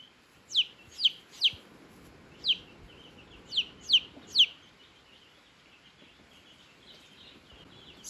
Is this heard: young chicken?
yes